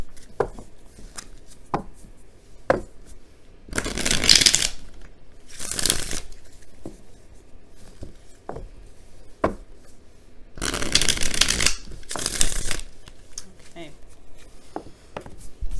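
Tarot cards are shuffled in two bursts of riffling, with sharp taps and handling noises between them, close by and without talking.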